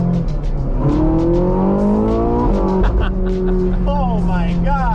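A Ferrari 458 Spider engine revs hard toward 9,000 RPM through the gears, rising in loud, close pitch sweeps with shift breaks, heard from the cabin. Excited voices come through over the engine noise.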